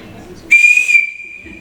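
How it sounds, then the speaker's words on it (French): A small whistle blown once in a loud, shrill, steady blast lasting about half a second, its tone lingering faintly before quiet talk resumes. "j'ai un petit sifflet là que je vais tester en avant-première avec vous"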